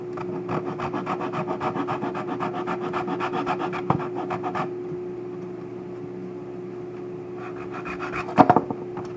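A wooden violin bridge is sanded down to fit the top in quick rhythmic rasping strokes with a steady background hum, then the rubbing stops and a few light wooden knocks follow; close, no talk.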